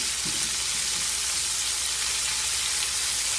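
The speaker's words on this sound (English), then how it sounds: "Let it get the cooking in there, in that grease." Pork chops frying in grease in a skillet give a steady, close sizzle with no talk over it.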